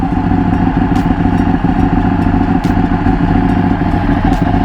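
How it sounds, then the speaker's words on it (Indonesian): Ducati Panigale 1199 Tricolore superbike with a modified exhaust and an L-twin Superquadro desmodromic engine, running steadily at idle or low revs; a loud, continuous, close-up throbbing rumble with no talk over it. "Suaranya khas mesin L-Twin guys"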